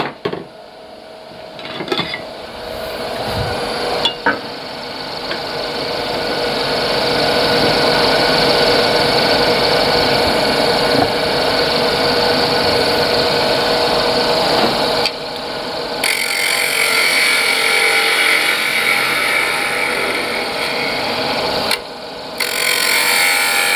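A bowl gouge cuts wood on a lathe while turning a balance tray, giving a steady, loud scraping hiss over a motor hum. The sound runs continuously, with brief breaks near the middle and toward the end.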